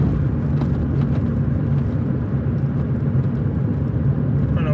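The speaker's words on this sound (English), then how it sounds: "I'm just driving there" Steady low engine rumble and road noise from inside a car being driven, constant and fairly loud throughout with no speech.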